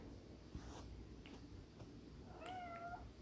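A house cat meows outside a closed bedroom door: a single short, faint meow near the end, heard through the door against quiet room noise.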